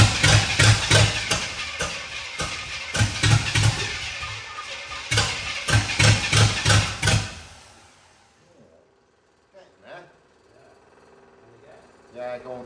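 GMC Vandura V8 van engine cranking and firing unevenly with a choke closed, loud and close for several seconds in a choppy, pulsing rhythm before cutting out to near silence, followed by faint knocks.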